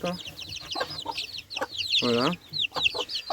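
Young chickens at a poultry-breeding setup, a rooster and hens among them, cluck and peep in quick high bursts, with one longer, fuller cluck near the middle, close by while someone talks over them.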